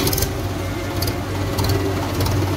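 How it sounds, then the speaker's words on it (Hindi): A 2023-model JCB machine's engine runs steadily at a low, even idle, a continuous near rumble with no voices over it. "चालू हो गई है। ये 2023 मॉडल की मशीन है,"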